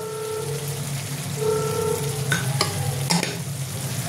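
Chicken masala with salt sautéed and stirred in oil, a loud close sizzle with low hum and several sharp scraping knocks of a spoon against the pan late on.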